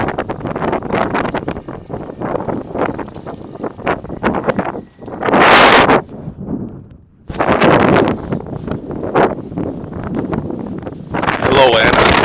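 Strong gusty wind roars through a tunnel and buffets the microphone in bursts, with brief lulls, and a person talks intermittently beneath the rushing noise.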